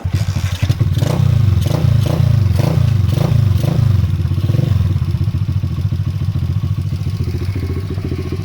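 A Dirt 125 dirt bike fitted with a new carburetor runs close by, its engine surging and revving in a few quick throttle blips before settling into a steady, loud idle with rattling mechanical clatter.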